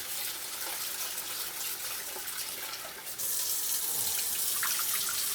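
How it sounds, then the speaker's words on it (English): Tap water runs steadily over rice being rinsed of its starch in a kitchen, a constant close splashing hiss with small shifts as the grains are stirred under the stream. "we just gonna rinse the starch off the rice real good"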